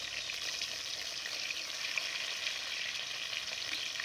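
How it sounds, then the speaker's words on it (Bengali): Fish frying in a pan gives a steady, close sizzle with a dense crackling hiss that holds even throughout, with no voices. "মাছ ভাজা আমার শেষের দিকে।"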